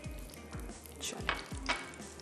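Hot oil tempering (baghar) poured over daal makhni with butter and ginger gives a soft, steady sizzle with a few crackling bursts, close and fairly quiet, with faint rhythmic low thumps beneath.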